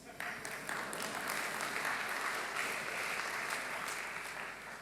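Conference audience applauding at an opening address, a steady wash of clapping that holds evenly for several seconds, moderately distant and quiet.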